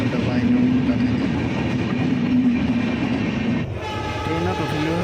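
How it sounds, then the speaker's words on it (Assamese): A late-running passenger train pulls into a station in the early hours on a journey toward Dimapur, its horn sounding as a long steady blare over the continuous rumble and clatter of the cars, close and loud throughout. "ট্ৰেইন আহি পালে পুৱা 3:30 বজাত উঠি লওঁ"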